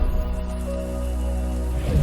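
A rain cloud effect in the Nature Treks VR video game gives a steady, close hiss of falling rain over a low tonal hum, continuous for about two seconds, with no talking.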